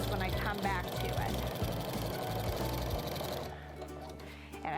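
Sewing machine with a walking foot quilting wavy lines across a quilt, running steadily and close with a rapid rhythmic needle chatter for a few seconds before slowing and quieting at the end.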